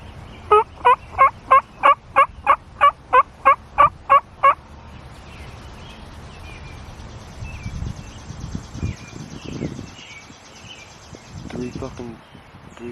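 Wild turkey toms in a grape field gobbling, a rapid run of about a dozen loud rattling calls near by, followed by rustling and quiet talk with fainter calls further off.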